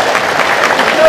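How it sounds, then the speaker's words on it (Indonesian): An audience at an Islamic sermon gathering claps steadily in a dense, continuous burst of applause, with a voice over the top. "Tepuk tangan untuk Prof."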